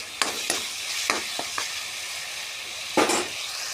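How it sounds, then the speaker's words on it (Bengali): Masala for paneer sizzles steadily in a frying pan as a spatula stirs it, making several sharp scraping clicks and knocks against the pan, with no voices. "আস্তে আস্তে মশলা নাড়তে লাগবে বন্ধুরা, যাতে গলে না যায়।"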